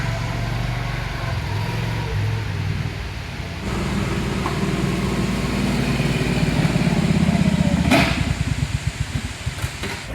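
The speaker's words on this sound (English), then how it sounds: "I hear him shifting gears pretty hard." A Kubota BX23S compact tractor engine drones steadily, its pitch rising and falling as it works through gears crossing a bridge, with a rattling clatter near the end.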